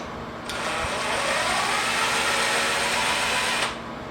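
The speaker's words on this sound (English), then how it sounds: "I'm now going to remove the final bolts" A power tool whirs for about three seconds as it spins out a timing cover bolt on a Nissan 350Z engine, heard close and loud, with a low hum before and after.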